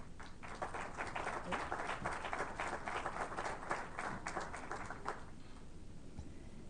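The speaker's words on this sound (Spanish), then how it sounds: "Recibámosla con un fuerte aplauso." Audience applause at an international seminar on corruption, a dense wash of many hands clapping for about five seconds before thinning out and fading, heard from within the room at moderate distance.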